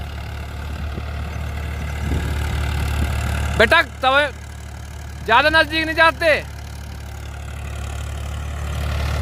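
A Farmtrac 45 or New Holland 3630 tractor idles with a steady low drone throughout, while someone speaks in two short bursts in the middle.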